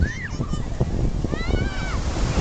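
Ocean surf washes and rumbles close by with gusty wind buffeting the microphone, while people wade and swim in the sea, and high chirping voices or calls carry over the water.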